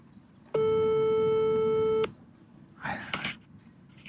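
A telephone tone while calling a friend during a French TV quiz: one steady electronic tone lasting about a second and a half, clear and loud, followed by faint clicks and brief rustling.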